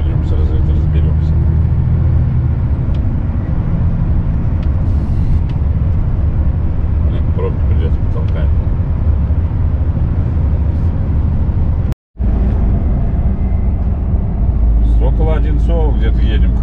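Inside a car driving along roads near Moscow's MKAD ring road, a steady loud low rumble of engine and road noise fills the cabin with one brief dropout, while people talk over it.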